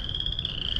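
Frogs croak in a continuous high, shrill chorus from a wet area in April, steady and moderately loud with no talking over it.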